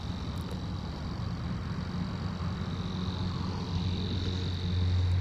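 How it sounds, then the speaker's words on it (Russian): A cricket at a lake at night holds a steady, high, continuous chirp, while distant cars rumble low and constant behind it, growing slightly louder at the end. "Сверчок и машины."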